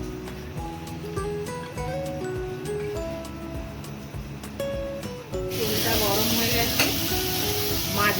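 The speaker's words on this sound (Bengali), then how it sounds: "মাছগুলো ভেজে নিচ্ছি" Pomfret fish frying in hot oil, a steady loud sizzle that swells and brightens partway through, with occasional stirring clinks and a tonal melody playing underneath.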